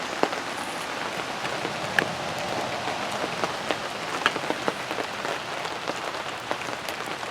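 Steady rain falls outdoors around a campfire area, a dense, even hiss with scattered close drops pattering on nearby surfaces, continuous throughout with no voices.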